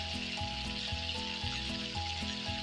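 Chopped onion frying in a pan with crushed ginger and garlic added, giving a steady, close sizzle that runs throughout, partly under background music.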